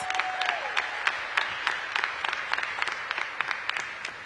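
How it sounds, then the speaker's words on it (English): Applause from an audience at a public event marking the start of summer for DC schools, a steady mid-sized wash of clapping with distinct claps popping out, heard alone at moderate distance. "Give them a big round of applause."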